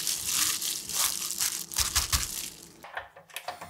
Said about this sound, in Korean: 조물조물 묻혀서 양념이 고루 배이게 만들어줍니다.